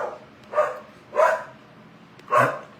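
A dog barks three times in loud, evenly spaced single barks, each one close and clear with quiet pauses between them.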